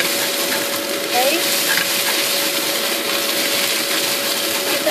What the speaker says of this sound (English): So now the actual onions and ginger and garlic are getting cooked through.